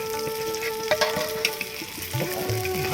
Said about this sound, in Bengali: পাঁচফোড়ন দেওয়া হচ্ছে।